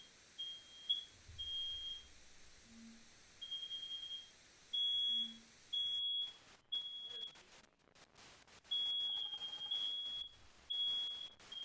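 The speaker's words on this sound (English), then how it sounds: "No, I think that was our fire alarm." A household fire alarm beeps in short, high, evenly repeated chirps that come and go over several seconds, moderately loud against a faint background hiss.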